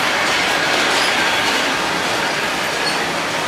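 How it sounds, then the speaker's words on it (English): A freight train carrying automobiles rolls past up close in a continuous, loud rumbling roar of wheels and cars, with no talking. "right now I'm just going ahead and film the freight train leaving"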